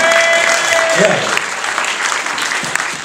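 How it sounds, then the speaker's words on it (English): Loud applause from wedding guests, dense and sustained, easing slightly toward the end, with a brief tone heard near the start. "My brand new father-in-law, give him a round of applause."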